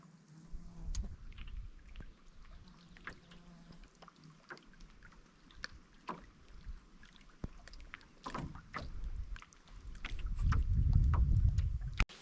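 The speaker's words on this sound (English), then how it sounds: "I did enjoy getting out on the water today, paddling around" A canoe is paddled on a wilderness lake during solo canoe camping and fishing, with soft intermittent dips, drips and hull knocks up close and a rising wind gust buffeting near the end.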